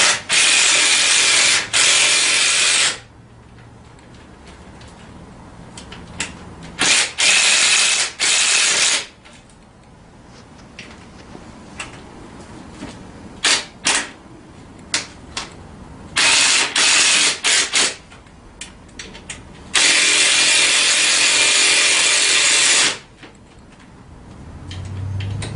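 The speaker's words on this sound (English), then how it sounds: "And then I go ahead and start tightening these 4 screws down." Screws are tightened on mini ATV handlebars with a ratchet, giving several loud bursts of rapid clicking and grinding that start and stop, close by, with quieter handling noises between them.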